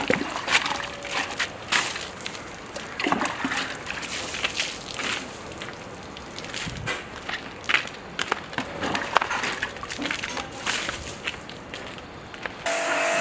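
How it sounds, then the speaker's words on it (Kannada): Water from a motor pump sprays over a Royal Enfield Bullet motorcycle being washed at home, an uneven splashing and spattering stream with bursts and sloshes, fairly close, continuing throughout. "ಈಗ ಅದನ್ನು ರೆಡಿ ಮಾಡಿಬಿಟ್ಟು ಮೋಟ್ರಲ್ಲಿ ಆನ್ ಮಾಡಿ ತೊಳಿತಾ ಇದ್ದಾನೆ."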